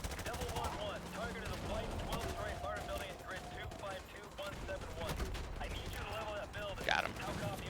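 Rapid gunfire crackles through a Call of Duty: Modern Warfare 2 campaign battle, bursts of automatic fire and single shots over a steady din of combat, with a voice talking over the action.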